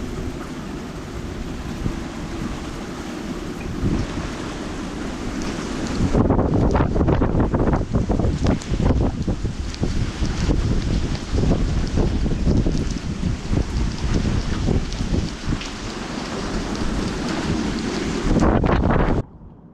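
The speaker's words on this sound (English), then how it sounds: "here comes a round of really strong wind and rain" Strong wind and rain lash a vintage sailboat during a storm in Hawaii, starting as a steady roar and then swelling into heavier buffeting gusts and wind rumble on the microphone for most of the clip before cutting off abruptly.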